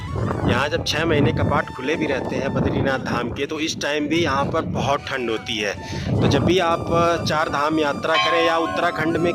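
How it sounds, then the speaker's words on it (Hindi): Strong mountain wind at Badrinath Dham in Uttarakhand, a steady broadband rush with a low-end roar, running under someone talking throughout. "यहाँ पर तो दोस्तों इतनी तेज़ हवा चल रही है कि उसकी आवाज़ आप सुन पा रहे होंगे"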